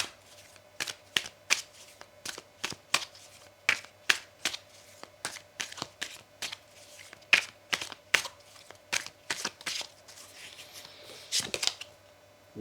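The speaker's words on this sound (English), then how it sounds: "Let's give these cards another shuffle." Tarot cards are shuffled by hand close to the microphone, giving a long run of crisp, rapid riffling bursts in an irregular rhythm. A faint background hum runs underneath, and nobody talks.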